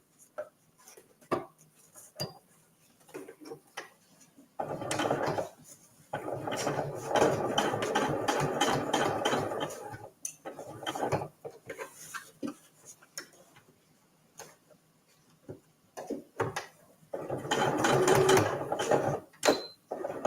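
A sewing machine stitches fabric in several rapid, rhythmic bursts of close mechanical ticking, separated by pauses, quiet clicks and handling noises as the fabric is pivoted.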